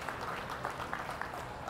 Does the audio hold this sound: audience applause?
yes